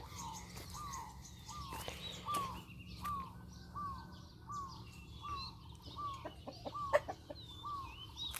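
Chicken clucking in a morning garden, a repeated series of short rhythmic clucks at moderate distance over a steady low background hum, with a few sharper calls near the end.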